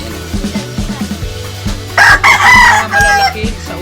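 Chickens at a small chicken farm, including a rooster crowing loudly and close by in a couple of bursts, with clucking and low farmyard rumble underneath.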